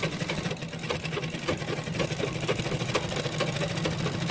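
A sewing machine stitching the folded fabric of a collar-neck top, a steady close rapid whirring hum that holds without a break.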